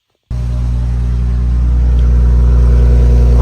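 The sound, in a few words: BMW X5 exhaust in Sport mode, exhaust flaps open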